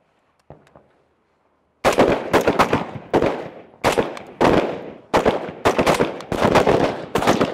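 Carbine shots fired outdoors at a 25-yard target, loud sharp cracks in quick bursts and strings after a brief quiet start, each report ringing off into a short echo.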